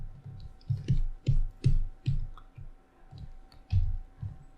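Keys on a computer keyboard numpad being pressed in a series of crisp, close clicks, some in quick pairs, with short pauses between, no talking.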